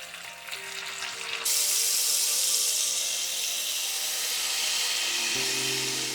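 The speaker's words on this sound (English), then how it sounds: "Go ahead and add a 1/4 cup of water to your glaze and pour it over" Water poured into a maple pecan glaze over salmon in a hot pan, a loud steady sizzle and hiss bursting up abruptly and holding throughout, with no talk.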